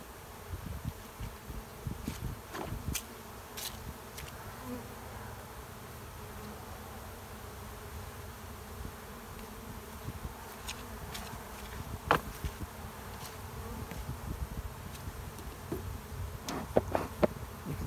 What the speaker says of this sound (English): put the bees back in, and give them a better situation than what they have.